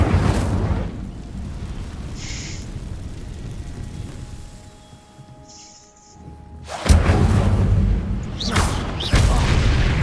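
Incendio fire spell cast in Hogwarts Legacy, loud fiery whooshing bursts at the start and again later, with a quieter rumbling stretch between them.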